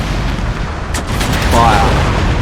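Ship cannons fire a broadside in the Empire: Total War naval battle game, with a pair of booming blasts close together over constant rumbling battle noise and faint voices.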